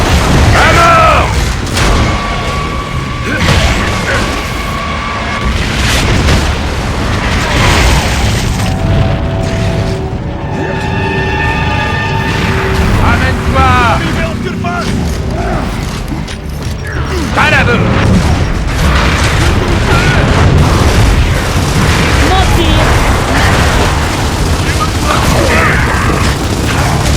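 Heavy booms and explosions from the video game Gears of War: Judgment, loud and repeated over about half a minute, mixed with mechanical clanking and game sound, with voices speaking at times.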